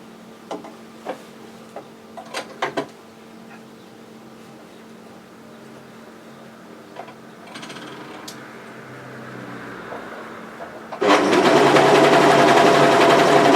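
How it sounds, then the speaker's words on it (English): A sewing machine runs an overlock stitch along the raw edge of a pleated hoodie seam, starting with scattered clicks and handling taps, then settling into a loud, steady mechanical whir for the last few seconds. "I'm just going to overlock my raw edge, turn and stitch down"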